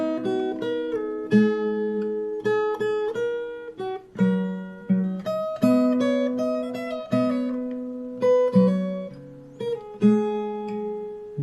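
Fingerstyle guitar plays the verse melody of a song, plucked single notes and bass tones ringing in a flowing, steady phrase, close and clear with no talking.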